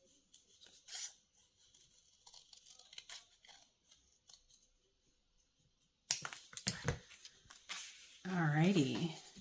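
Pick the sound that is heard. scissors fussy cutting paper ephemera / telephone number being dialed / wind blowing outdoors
scissors fussy cutting paper ephemera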